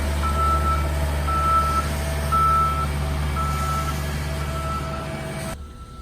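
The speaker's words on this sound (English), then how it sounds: "And he does a couple passes. They go backwards and forwards." An asphalt road roller reverses during paving, its backup alarm sounding four steady evenly spaced beeps over a loud continuous diesel engine rumble, which cuts off abruptly near the end.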